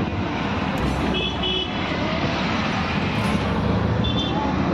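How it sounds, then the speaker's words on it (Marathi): Auto-rickshaw ride through busy Sunday road traffic in the Borivali–Goregaon area of Mumbai, with a steady dense engine and road roar throughout, a few short horn toots near and far, and faint voices in the background. "रिक्षामधून चाललोय"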